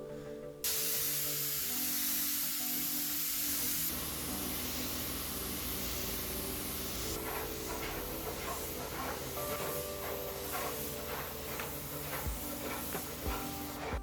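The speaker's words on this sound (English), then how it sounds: "using my trusty spray gun to apply the primer to the panels" Steady loud hiss of a spray gun applying primer to wood panels, running continuously, with a droning compressor-like hum and shifting mechanical tones beneath it.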